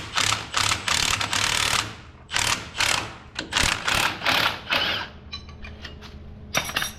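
Ratchet wrench working a bolt loose on a tube-chassis RZR, loud close bursts of rapid clicking in repeated strokes with short pauses between, ending in a few sharper metallic ticks.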